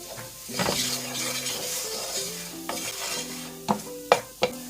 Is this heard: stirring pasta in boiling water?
yes